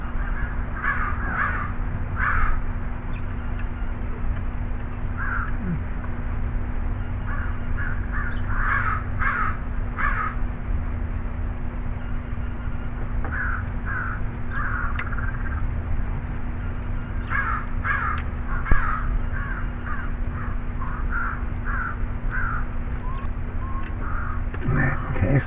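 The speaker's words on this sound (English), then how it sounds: "Crow's sure noisy today." Crows caw repeatedly outdoors at a moderate distance, harsh calls arriving in clustered bursts of several caws separated by pauses, over a steady low hum.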